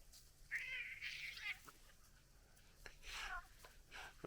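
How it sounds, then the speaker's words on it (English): Cat meowing and yowling during a scuffle, two drawn-out cries followed by a shorter one, all fairly faint against quiet background noise. "the cat will turn around and really give him a wacko here and bite at him"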